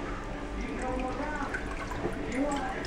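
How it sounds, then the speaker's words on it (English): Vegetable soup juice pouring through a colander into a big bowl underneath, a steady, fairly quiet liquid splash and trickle lasting a few seconds. "and then pour the juice into here."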